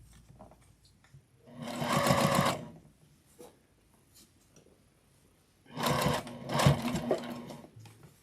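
A sewing machine stitches along the edge of thick fabric for a Christmas bowl cozy made from scraps, in two close bursts of rapid whirring separated by a few seconds of quiet.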